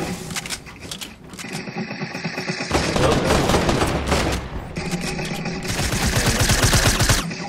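Rapid bursts of automatic gunfire from the Fortnite video game, loud and dense, come in two long stretches separated by short pauses. A word of speech is briefly audible.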